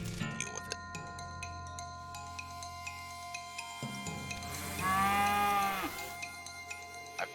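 A cartoonish cow moos once, long and drawn out, in the video game West of Loathing, over a steady game music backdrop with light clinking beats.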